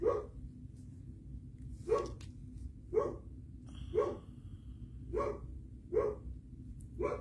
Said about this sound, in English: Oh, there's Bogey, bark, bark, bark.